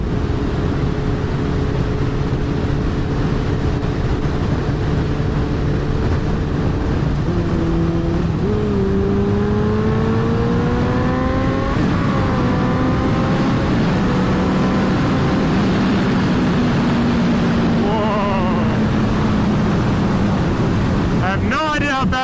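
Stretched and lowered Kawasaki ZX-14R motorcycle accelerating hard, its engine whine rising steadily in pitch through a gear change, under heavy constant wind roar from riding speed.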